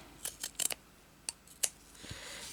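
Scissors snipping through fabric strips for bow-making, a handful of sharp, close cuts in quick bursts and then a couple of spaced single snips, with quiet room tone between them.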